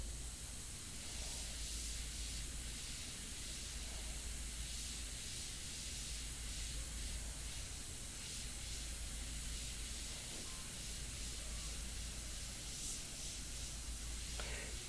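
An airbrush spraying India ink on paper gives off a steady, close hiss of air that runs unbroken for the whole stretch with only slight wavering, and no one talks over it.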